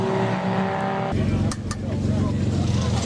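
Endurance race cars lapping a track under a yellow flag during a 24-hour race, heard as a loud, continuous engine drone: a steady tonal whine at first, then a dense roaring wash with a brief dip midway.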